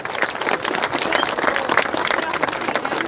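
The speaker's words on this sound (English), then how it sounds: "give them a round of applause, please." A crowd at an outdoor anti-immigration protest in Carrickmacross claps, a brief, fairly close burst of steady applause with faint voices mixed underneath.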